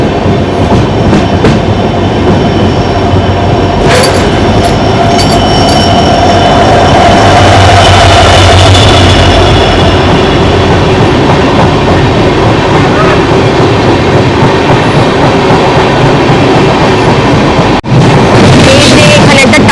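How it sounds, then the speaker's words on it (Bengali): The Kanchankanya Express rolls into Sevoke station with a loud, steady rumble and rhythmic clatter of wheels on track, heard from on board, with a sharp break in the sound near the end. "এই যে এখন সেবক স্টেশন ঢুকছে ট্রেনটি।"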